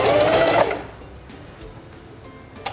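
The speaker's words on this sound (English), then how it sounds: "Select number 3 on the stitch selector dial and sew a few stitches for your upper bar tack." Heavy Duty 4411 sewing machine stitching a bar tack: a fast, loud mechanical whir for about half a second, then it stops, leaving quiet room tone with a few faint clicks and one small knock.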